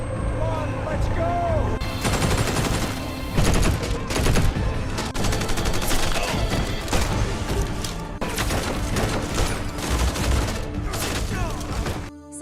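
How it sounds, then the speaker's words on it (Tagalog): Rapid gunfire bursts and volleys erupt in a movie shootout as police surround a compound, loud and continuous with heavy thuds, while voices shout amid the shooting. "Biglang sumabog ang mga putok sa labas."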